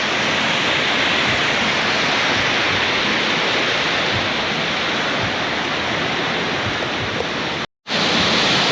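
Banjhakri waterfall near Gangtok, water plunging from a height: a loud, steady broadband roar that fills the whole stretch without letup, with a brief dropout near the end.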